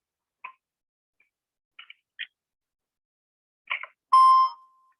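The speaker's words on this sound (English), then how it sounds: "So that was the answering machine, not a voicemail, answering machine." An answering machine picks up during a phone call: several short electronic chirps and blips spaced through near silence, ending in one longer, louder tonal beep.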